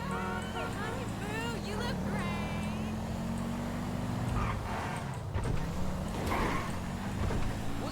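A garbage truck drives through GTA V, its engine a steady low rumble with shifting pitch, mixed with game background noise and occasional whines while people talk over it.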